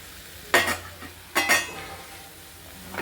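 Prawns tipped into a hot pan with masala and green chilli give two short, close sizzling bursts with a scraping stir, then quiet frying.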